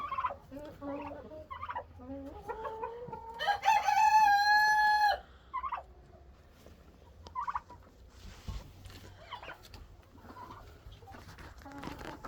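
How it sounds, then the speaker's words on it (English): Several roosters crow in a rain-soaked chicken coop after a hurricane, one loud close crow standing out among other fowl calls and clucks, with people talking quietly around them. "Lots of different roosters starting to crow."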